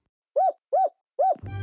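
Three evenly spaced, hollow hoots ring out clearly, like an owl call, followed by a brief musical chime at the end.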